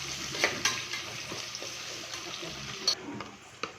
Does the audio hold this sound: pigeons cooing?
no